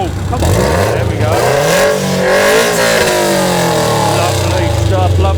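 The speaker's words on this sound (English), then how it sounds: "Of course, that gorgeous flat four singing away." A Subaru flat-four tuned to about 485 horsepower revs hard and close, its pitch climbing and dipping through several surges, while a commentator talks over the engine note.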